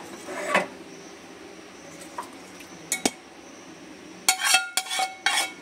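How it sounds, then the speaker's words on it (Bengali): Fried shrimp are scraped and poured from a pan into a bowl for a Bengali cocktail shrimp dish, with sharp metal clinks and scrapes arriving in scattered bursts, quiet at first and busier near the end. "এবার এই বাটির মধ্যে আমি সবটা ঢেলে নেবো"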